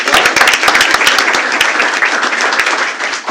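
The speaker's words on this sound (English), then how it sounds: "Give her a big round of applause" A school board meeting audience applauds Heidi Royce as she comes to the microphone, a loud, dense burst of many hands clapping that carries on steadily without talk.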